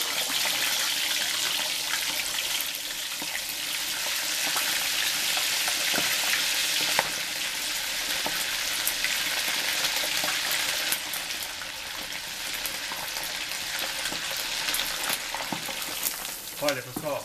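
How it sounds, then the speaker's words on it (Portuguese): A piece of Brazilian rolled pork crackling (torresmo) set into very hot fat, giving a loud, continuous sizzle and hiss of frying that runs unbroken throughout, with some stirring and clatter near the end. "agora vamos colocar um pedaço do nosso torresmo numa gordura bem quente para fritar."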